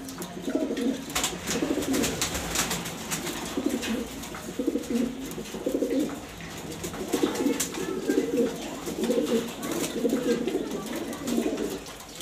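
Mili pigeons in a loft coo in repeated low, throaty pulses, a steady rhythm of several birds calling fairly close over a soft background hiss.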